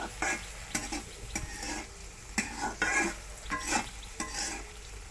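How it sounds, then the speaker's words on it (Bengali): Coarsely chopped onions frying in a pan for a koi fish bhuna, with a close, constant sizzle broken by repeated scraping stirs and light clinks of a utensil against the pan, and no voices. "এটাকে ভালো মতো একটু ভেজে নিব। পেঁয়াজটা একটু ভালো মতো ভেজে নিলে ভুনাটা আরও মজা হয়।"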